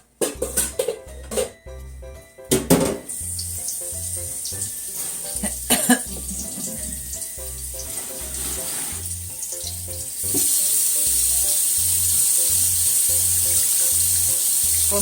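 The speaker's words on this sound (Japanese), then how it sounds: "そして今からこの草餅をね、ゴミを取って洗っていきますね。" Fresh mugwort leaves for kusamochi rice cakes are rinsed under a running kitchen tap, with water splashing steadily into the sink and growing louder and fuller toward the end.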